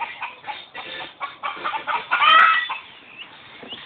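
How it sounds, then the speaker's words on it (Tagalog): Chickens clucking in a busy, continuous run of short calls, fairly close, with one louder squawk near the middle and no talking. "Ang manok at si Marichoy."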